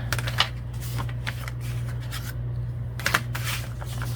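Paper being cut for a handmade journal cover: a series of crisp, rhythmic snips and rustles at close range, repeating several times over a steady low hum, with no one talking.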